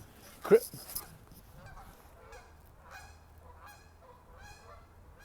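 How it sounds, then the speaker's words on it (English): Geese honk repeatedly at a distance over a lake on the Michigan State University campus, a series of nasal calls spread across the clip, with one louder close sound near the start. "a lot of geese are gonna land on the lake"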